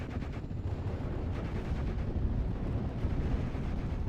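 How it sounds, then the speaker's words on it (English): Continuous strafing gunfire in the WWII strategy game Steel Division 44: a dense, low rumbling barrage of rounds and impacts, sustained and fairly distant, without clear individual shots. "Continuous strafing rounds onto the MG team, trying to remove that suppression platform."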